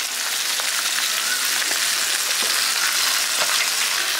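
Chunks of eggplant and papaya dropped into a hot pan of oil for a village-style Bengali labra vegetable dish, frying with a loud, steady dense sizzle and faint crackles throughout, no voices.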